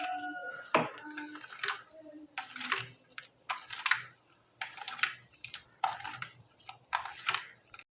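A spoon stirs sugar into Jaffna-style milk appam batter in a bowl, giving close, rhythmic clinks and scrapes in repeated short strokes, roughly one every second, with no talking.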